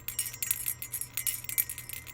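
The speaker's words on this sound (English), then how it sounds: "we also have a bell, but it's green this time and sounds a little different." A small green bell rings repeatedly in quick, bright jingles, close and fairly soft, with a steady low hum underneath.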